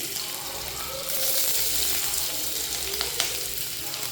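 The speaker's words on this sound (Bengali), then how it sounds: "তারপরে পেঁয়াজ কুচি দিয়ে দিলাম তেলের মধ্যে" Chopped onion hits hot oil in a pan for egg chicken chow mein, a loud, continuous sizzle that swells after a second, with a couple of sharp clicks near the end and no talking.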